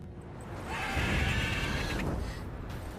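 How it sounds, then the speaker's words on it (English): A horse neighs in The Witcher 3 game, a high whinny running roughly a second and a half over a busy, noisy game backdrop at moderate loudness. "Worthy of the best horse. The mare is yours."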